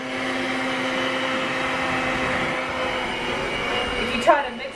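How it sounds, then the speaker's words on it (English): A small electric hand mixer runs on its turbo setting while whipping gingerbread cookie batter, producing a steady high motor whine and hum that ends with a brief clatter. "I have a turbo button on my little mixer apparently."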